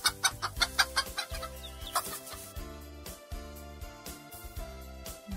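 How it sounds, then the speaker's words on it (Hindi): A hen clucks in quick, close bursts, loudest at the start and then in sparser calls, over a soft musical accompaniment. "मुर्गी"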